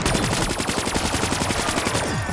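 Rapid automatic gunfire in the Mario Zombies video game as zombies are shot from a well, a dense burst of evenly spaced shots repeating quickly for about two seconds, then stopping.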